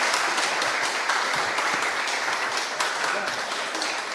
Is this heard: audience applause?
yes